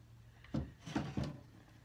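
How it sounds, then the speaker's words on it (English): Drawers of a buffet cabinet slide out in three quick wooden scrapes, close by and fairly soft, over a low steady hum, with no talking. "what I'm gonna do is pull my drawers out a little bit"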